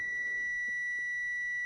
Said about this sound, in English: you notice it beeps, then it goes red, and then it goes green and beeps